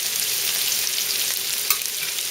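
Steamed cauliflower browning in a hot pan gives a steady, even sizzle that holds throughout, with one brief louder crackle near the end and no voices.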